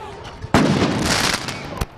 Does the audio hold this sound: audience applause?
no